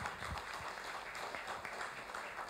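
Quiet applause from a talk show audience, a soft continuous patter of many hands clapping at a distance.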